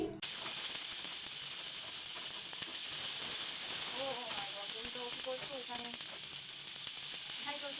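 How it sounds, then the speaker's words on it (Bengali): Ground spice paste of chilli, garlic and ginger fries in a pan for an egg curry, giving a steady, close sizzle and hiss with faint stirring scrapes throughout. "বাটা মশলাগুলো একটু ভালোভাবে কষিয়ে নিচ্ছি"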